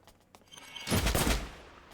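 Video game gunfire in Wanted: Dead, a tight burst of rapid, punchy shots fired close together, loud over a quiet game background with a few faint earlier pops.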